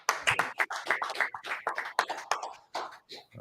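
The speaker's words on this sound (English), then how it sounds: "Let's clap it up." Rhythmic group clapping at a religious brotherhood class, with sharp, close claps in an uneven beat mixed with loud voices chanting or calling along.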